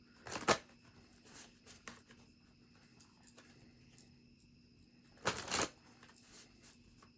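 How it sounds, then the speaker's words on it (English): Two bursts of crisp riffling, like a deck of cards being shuffled, with soft handling noises between them in a quiet room. "Gonna give these a few good shuffles."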